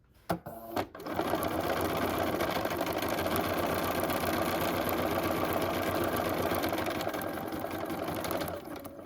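A sewing machine stitches slowly around a curve on a fabric bag, a steady close mechanical whir running for about eight seconds after a few brief clicks at the start.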